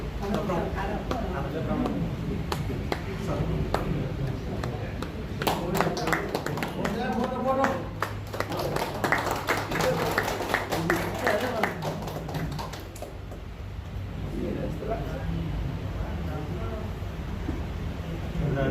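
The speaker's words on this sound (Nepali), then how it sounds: "ताली" An audience applauds at a book launch held at Bachhala Devi Secondary School, dense clapping building in the middle and fading out, with a speaker talking over it.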